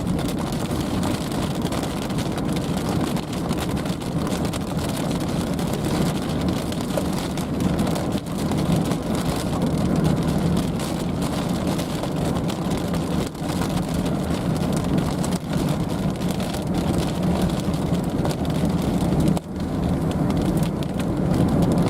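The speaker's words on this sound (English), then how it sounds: "Oh yeah, bigger hailstones." Large hailstones pound a car during a storm chase, a dense, steady roar of impacts on the metal and glass that fills the whole stretch, with heavy rain mixed in and a few louder individual strikes.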